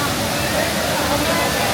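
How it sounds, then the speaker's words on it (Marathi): Savdav waterfall pouring as a dense, steady roar of rushing water that fills the whole moment without a break. "समोर वॉटरफॉल तुम्ही बघू शकता."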